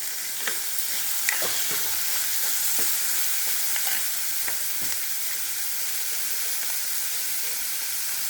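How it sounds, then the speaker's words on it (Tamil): Onions sauté in a pan as the base for a ridge gourd kadayal. A steady, close sizzle hisses throughout, broken by a few light stirring clicks. "இந்த அளவுக்கு வெங்காயம் வதங்கினா போதும்"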